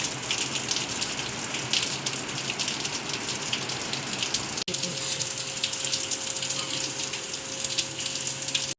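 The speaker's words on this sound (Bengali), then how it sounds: "মুসুলধারে বৃষ্টি হচ্ছে।" Heavy downpour rain hisses and gushes steadily, a dense wash of falling water with a brief click partway through and a faint steady tone underneath.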